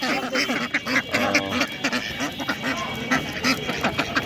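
A group of medium-sized, non-native ducks at a weekly livestock market quacks nearby in a rapid, continuous stream of overlapping calls.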